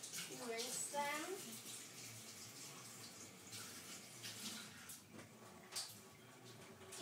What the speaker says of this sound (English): Then you might have to rinse off your hands.